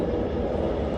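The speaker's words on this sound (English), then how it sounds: "I apologize for the helicopter" A helicopter passes overhead as a loud, steady rumbling drone that fills the short stretch without a break, with no voices.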